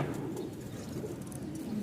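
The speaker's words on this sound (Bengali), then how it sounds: "প্রতিটা কবুতরেরই ডাক আছে" Pigeons kept in a loft in Rajshahi coo in a low, throaty, continuous murmur, close and fairly quiet, with no other sound over it.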